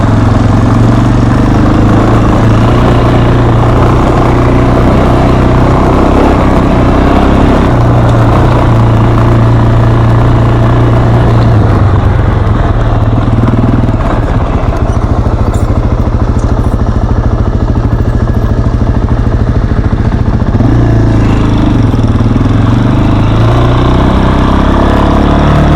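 Small motorbike engine revving steadily and loudly through second gear wheelies, a continuous droning hum that rises and falls in pitch with the throttle and carries on alone for the whole stretch.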